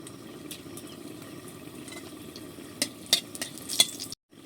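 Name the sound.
dried red chillies frying and being stirred in oil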